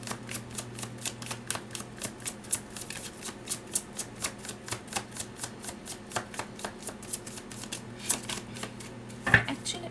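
Tarot cards are shuffled by hand in a quick, regular riffle of crisp flicks, close and clear, continuing steadily for several seconds with a low hum beneath.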